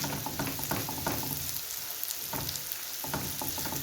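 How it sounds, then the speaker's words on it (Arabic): Chopped onions fry in hot oil while being stirred, a steady close sizzle with soft scraping and stirring sounds breaking through, no voices. "كما راكم تشوفوا تخلطوا البصل تاعكم مليح حتى يذبل"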